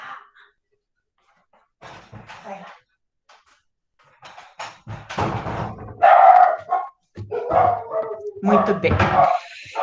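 A small pet dog yips and barks indoors in short bursts, close and fairly loud, mixed with someone talking and some bumps and shuffling.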